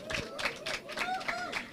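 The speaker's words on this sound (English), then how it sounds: "Please, a round of applause." Faint, rhythmic clapping from an audience at a bank's International Women's Day celebration, with a voice speaking over the short burst of applause.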